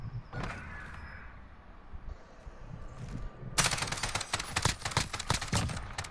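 Gunfire in the online shooter Call of Duty: Modern Warfare, quiet at first with faint mechanical sounds, then a loud close burst of rapid automatic fire for the last few seconds.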